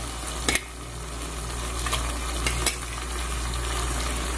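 Meat sizzles loudly in a pan with olive oil and tomato sauce, a steady close frying hiss broken by a few sharp clinks and stirring scrapes, no voices.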